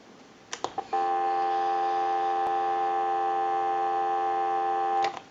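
Steady, continuous payphone dial tone holds for about four seconds after a few quick clicks from the handset, ending with another soft click; no speech.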